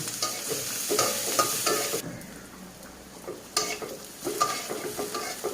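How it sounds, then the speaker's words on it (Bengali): Green chillies and onion frying in oil give a close, steady sizzle broken by repeated clattering stirs and scrapes against the pan, no speech. "তেল দিয়ে দিলাম, দিয়ে কাঁচা ঝাল পেঁয়াজ ভেজে নেব"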